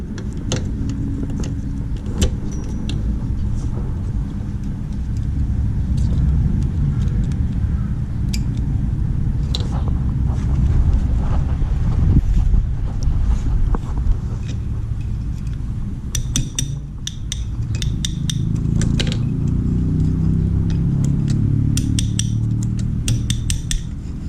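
An old car with a leaking intake valve cranks repeatedly without starting, a rough uneven churning with scattered metallic clicks and clinks, close and moderately loud over most of the stretch.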